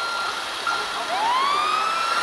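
Black fire truck in a video game sounding a siren, a rising electronic wail over a steady engine hum, no talking.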